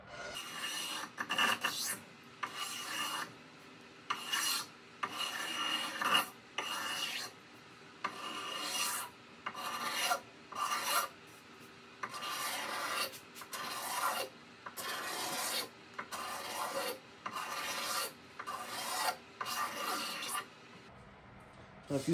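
Close, quiet rasping as varnish is stripped from a wooden axe handle, the passes coming in repeated bursts with short pauses between them, and no voices.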